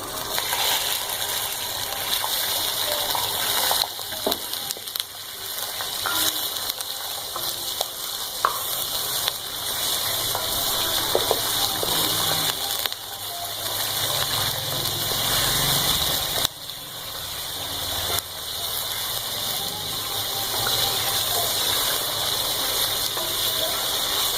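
Steady crackling sizzle of chicken frying in hot oil for chicken karahi, continuous and close, with occasional clicks and faint stirring.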